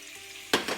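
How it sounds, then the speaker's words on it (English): Chicken hits hot oil in a frying pan and browns, a sudden loud sizzle erupting after a quiet moment, followed by a second crackling burst. "I'm going to add some chicken and I'm just gonna brown it up first."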